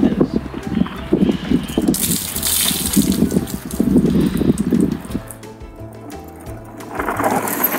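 Water sprays forcefully onto a muddy bike to wash it clean, a steady gushing hiss that surges and eases over several seconds.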